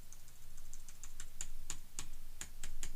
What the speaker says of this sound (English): hold down Shift and then try your left and right arrow keys